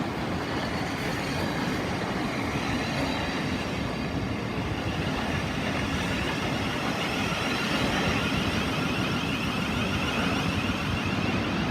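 A train rolls steadily through Gatwick Airport station on the Brighton Main Line. The broad rumble and hiss stay loud and continuous for the whole stretch, with no talk over it.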